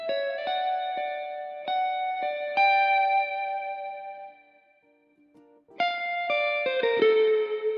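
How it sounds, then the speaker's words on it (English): Clean electric guitar played through a Strymon pedal with Fender-style spring reverb, ringing chords and picked notes with shimmering sustain and a short pause before the playing resumes, alone and up close. "especially the kind of Fender-y emulation with the spring reverb. So this is what that guitar track sounds like by itself."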